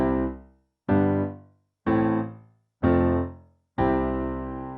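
Five piano chords played one at a time without pedal, each cut off cleanly with brief silence between, sounding dry and detached.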